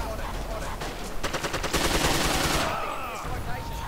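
Machine gun fire in the World War II video game Forgotten Hope 2 on the Bardia map: a loud, rapid automatic burst rattles in quick succession, then trails off into distant echoing shots.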